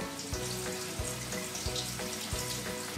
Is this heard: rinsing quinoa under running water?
yes